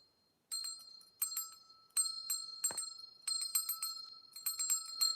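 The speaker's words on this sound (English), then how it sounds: "going to ring her bell" Brass bell rung by hand in a series of bright metallic strikes, each ringing out and overlapping the next, close and clear with no talk.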